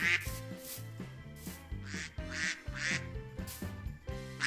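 A person imitates a duck's quack during a Minecraft play session, the vocal honks repeating over busy in-game music.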